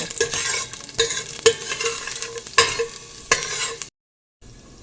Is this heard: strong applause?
no